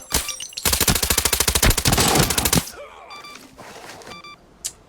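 Automatic gunfire from a shooter game firing at bots in Arena Breakout: a loud, rapid burst of shots lasting about two seconds after a single opening shot, then quieter scattered game sounds and beeps.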